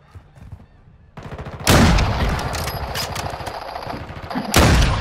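Gunfire in a video game shooter, quiet at first, then loud close bursts of rapid shots starting partway through and returning in a heavy burst at the end, with no talk.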